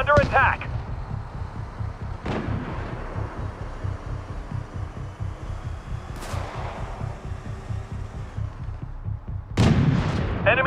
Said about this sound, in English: Enemy airstrike, fast approaching.